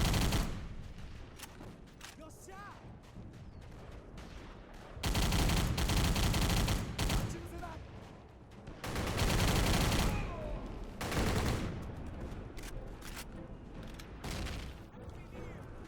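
Automatic weapon fire rattles through trenches in a wartime video game, with sustained bursts of rapid shots and intermittent heavier volleys, fairly loud and close.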